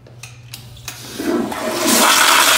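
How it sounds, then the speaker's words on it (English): A toilet in a public restroom flushes, starting with a few clicks and a short gurgle before building into a loud, steady rush of water up close. "Might flush on its own."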